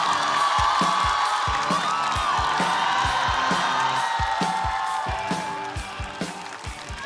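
A stand-up comedy audience cheers and whoops over a steady beat of walk-on music, loud and lively at first, then thinning out toward the end.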